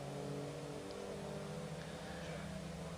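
A 5.2 litre Audi R8 race car runs flat out down the straight at Silverstone International, a steady, sustained engine drone holding throughout at moderate distance, no voices over it.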